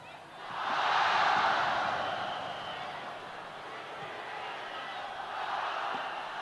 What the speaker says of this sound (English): the crowd really getting into this. They anticipated that hit from Son Yue. They're calling out a name